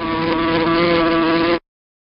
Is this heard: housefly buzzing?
yes